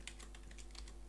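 Quick typing on a desktop computer keyboard, a rapid run of light key clicks at close range, quiet and alone with no voices.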